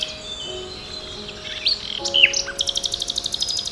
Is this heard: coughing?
no